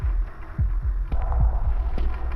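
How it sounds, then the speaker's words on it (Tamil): Heartbeat sound effect inside a haunted attraction park: a steady, loud low thumping pulse repeating about twice per second over a droning hum, with no talk. "ஹார்ட் பீட் ரைஸ் ஆகுதுங்க."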